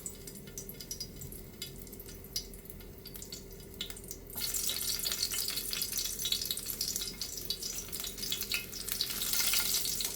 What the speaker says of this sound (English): I like the garlic kind of burning there, so it gives the oil a nice aroma and a nice taste.